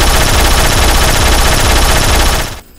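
Rapid, loud continuous automatic gunfire from a car-mounted gun in the Roblox Jailbreak video game, a dense unbroken burst that cuts off abruptly at the end.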